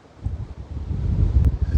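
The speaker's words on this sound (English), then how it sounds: "it's a really windy day" Steady low rumbling buffets of wind hitting an AnkerWork M650 clip-on microphone with a windsock, growing stronger over a couple of seconds, with no voices.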